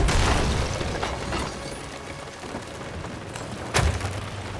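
Cannon fire in the pirate game Sea of Thieves during a ship battle: a booming burst opens, then a rumbling tail, with a second sharp boom near the end, no voices.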